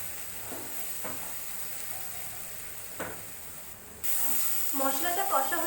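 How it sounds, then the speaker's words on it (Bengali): Spice masala of Kashmiri chilli powder, dried chilli powder and turmeric fries for an egg tomato curry, giving a steady soft hiss with occasional crackles before a louder, brighter sizzle surges near the end. "মশলাটা কষা হয়ে গেছে"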